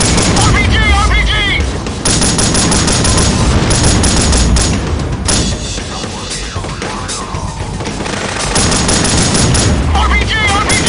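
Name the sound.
RPG explosions and gunfire in Delta Force video game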